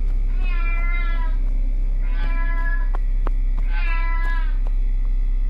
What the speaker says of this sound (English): Oh, it is a cat.